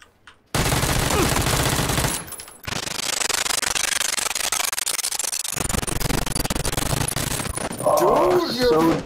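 An AK rifle fires fast, loud automatic bursts in an online shooter, broken by a brief gap and ending with metallic clinks.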